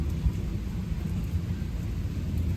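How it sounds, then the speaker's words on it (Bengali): Low thunder rumbles steadily through a rainy spell at home, a deep continuous roll with faint rain hiss above it and no voices. "আবার মেঘ ডাকছে বাবা।"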